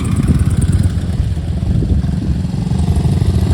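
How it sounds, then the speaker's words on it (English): A Cub motorcycle engine runs steadily at close range with a rapid, throbbing single-cylinder putter. The note stays fairly even for a few seconds with no voices. "Could be a Terrier or a Cub. And that's a Cub."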